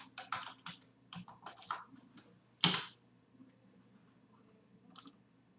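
Keystrokes on a computer keyboard enter a formula in an Excel spreadsheet, a quick run of soft clicks followed by one louder key press and a final isolated tap, close and quiet with no talking.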